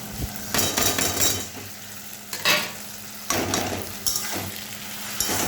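A ginger, garlic, tomato and green chili paste fries with onions in a pan, a loud close sizzle broken by several sharp knocks and scrapes of a spoon as the mixture is stirred.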